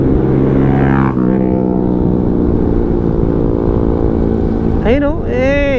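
Big motorcycles pass along a winding mountain road, their engines droning loudly and steadily up close, with a rising whine as one accelerates near the end; someone talks briefly over the engine noise.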